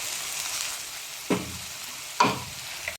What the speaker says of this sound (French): Toutes les tomates, il faut mélanger doucement.